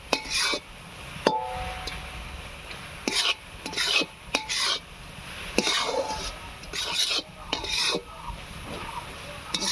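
Roasted rice flour and coconut with sugar are stirred in a pan, giving repeated bursts of scraping and rasping from the spoon in an uneven rhythm, each stroke close and clear with short quiet gaps between.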